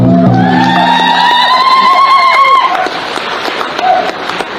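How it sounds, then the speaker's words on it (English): Outdoor crowd applause and cheering for a drum group at a homecoming gathering, opening with a long rising whoop or ululating cry over dense clapping that then settles into a steady clatter. "And let's give them one more big round of applause."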